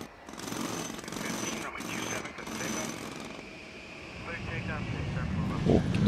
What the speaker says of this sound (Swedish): Men de snickrar och hamrar och har det så bra